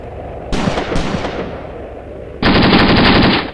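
A vehicle crew fires in a Graviteam Tactics battle: two sharp gunshots come first, then after a pause a loud sustained burst of machine-gun fire.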